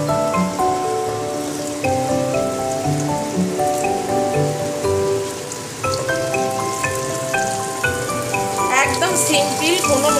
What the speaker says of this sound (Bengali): এইবার দেখুন আলুগুলো দিয়ে দিচ্ছি, আলুগুলো একটু ভেজে নেব।